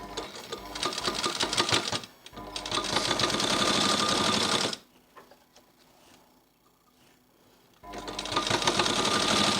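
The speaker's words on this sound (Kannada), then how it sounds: "ಈಗ ಉಲ್ಟದಿಂದ ಸ್ಟಿಚ್ ಹಾಕ್ತಾಯಿದ್ದೀನಿ ಇದ್ರ ಮೇಲೆ ಬರಬೇಕು ಸ್ಟಿಚ್ಚು" A sewing machine runs in steady bursts, stitching two main fabric pieces together from the reverse side. Loud continuous whirring with a short pause, then a longer quiet gap before the machine starts up again.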